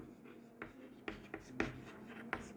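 Pen or marker strokes on a board or page as a teacher writes notes during a lesson on DNA structure, a series of short scratchy taps and strokes at irregular intervals, close and quiet, with no talking.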